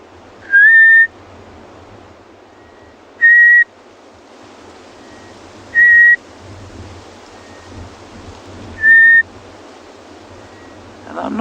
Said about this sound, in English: The closest I can get is a grey-headed bushrike